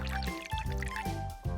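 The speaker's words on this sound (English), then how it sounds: "Vinegar is poured into a container to marinate the fish." Vinegar is poured into a small container to marinate fish, a soft gurgling trickle with bubbling pulses, faint and close, while music plays under it.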